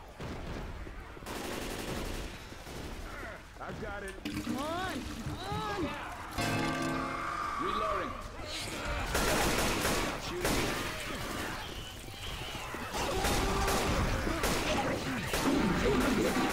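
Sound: gunfire in the video game Left 4 Dead 2

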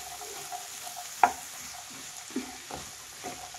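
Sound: mixing vegetables in the pan

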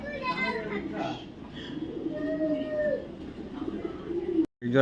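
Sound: racing pigeons cooing in a cage

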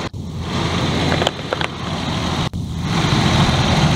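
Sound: Ford Explorer 4.0L SOHC engine running with rough idle

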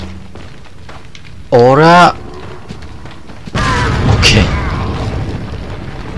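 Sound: grenade explosion in the video game Resident Evil 4

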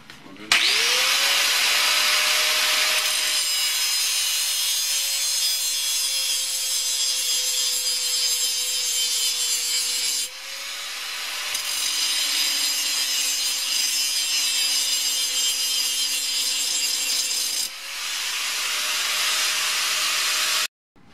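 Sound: grinding O1 drill rod tool steel boring bar

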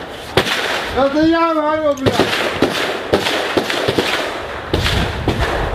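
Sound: gunfire shots

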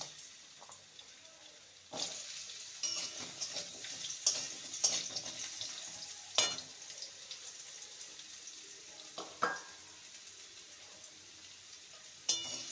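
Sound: potato strips frying in hot oil

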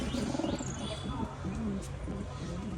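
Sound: pigeons cooing in a pigeon loft

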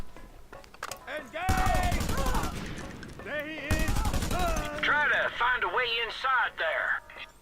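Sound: rifle gunfire in the video game Just Cause 2

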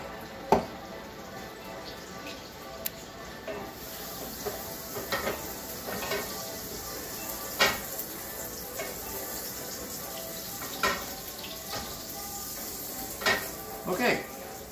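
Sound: butter heating and sizzling in a pan

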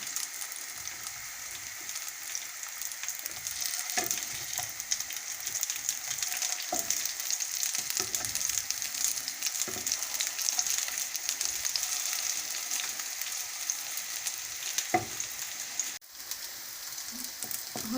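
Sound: liver fritters frying in a pan

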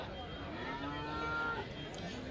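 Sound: cows at cattle market

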